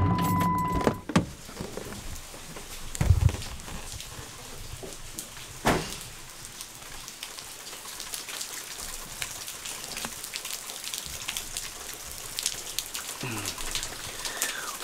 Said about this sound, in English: now it's cooled down and it's pouring down rain